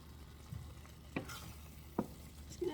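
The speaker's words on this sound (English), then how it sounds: "I'm just gonna test the broccoli and just stir it once" A spoon stirs broccoli in a hot pan, giving a few soft scrapes and knocks against a low, steady sizzle. The stirring is quiet, sparse and close by, with no talking.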